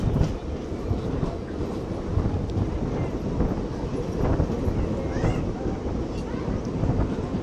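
A 07664 Jalna–Parbhani festival special passenger train runs along the rails with a dense, steady rumble and clatter, loud and close, with some wind buffeting.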